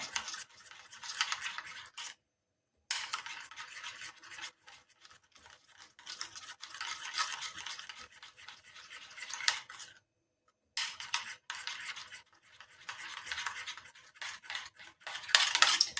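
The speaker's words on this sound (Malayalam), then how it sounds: "നന്നായിട്ടൊന്ന് ഇളക്കി കൊടുക്കണം കേട്ടോ" A face pack mixture being stirred in a bowl, a steady scraping and swishing in long bursts broken by short pauses, close and fairly quiet with no one talking.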